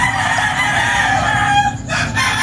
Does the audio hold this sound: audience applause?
no